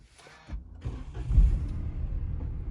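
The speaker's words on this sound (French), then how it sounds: "je vais démarrer directement le véhicule pour que vous puissiez un petit peu écouter en même temps que moi s'il y a des" A 2014 Peugeot 108 with its 1.2 VTi 82 hp engine cranking and catching quickly, then settling into a steady, close idle.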